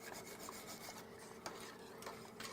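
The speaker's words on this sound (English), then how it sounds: "So you want to whisk it good to get it all mixed in and smooth." Cream soup being whisked smooth in a pot, a steady quiet rubbing, scraping rasp with faint rhythmic strokes and a few brief clicks, no voices.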